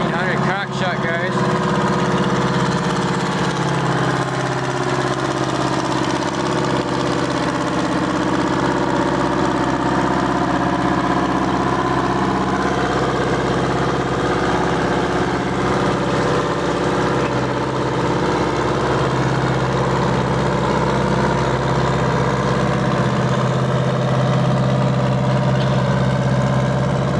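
The engine of an old Rumley tractor runs at a steam-era show, a steady low chugging drone that continues throughout with faint voices in the background.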